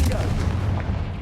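A Confringo blasting spell goes off in the Hogwarts Legacy game, a single loud, booming burst with a heavy low rumble that lasts through the short moment at close range.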